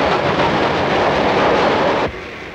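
A 1930s train runs along its rails, a loud, dense roar that holds steady and then drops off sharply near the end, with no voices.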